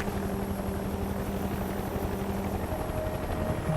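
A helicopter in the video game Mercenaries drones steadily nearby, its rotor chop and engine whine forming a constant loud hum with no speech.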